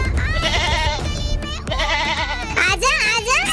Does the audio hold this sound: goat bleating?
yes